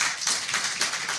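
A forum audience claps in a brief, dense burst of overlapping hand claps that fills the room, with no voices over it.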